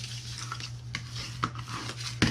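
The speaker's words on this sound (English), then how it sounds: "Then we are going to fold and burnish all of our scores." Scored paper for a skinny notepad box is folded and burnished, giving soft, close scraping rubs and a few sharper swipes and creases over a low steady hum.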